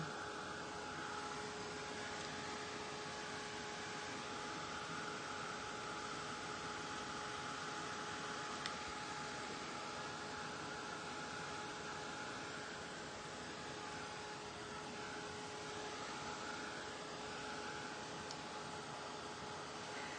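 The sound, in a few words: hair dryer drying DIY salt wash texture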